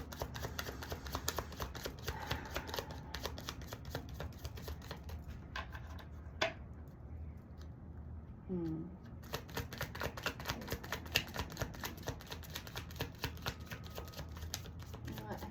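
Tarot cards shuffled on a table in a steady riffling, rapid soft flicks continuing through most of the stretch with a short pause, faint and close over a quiet room.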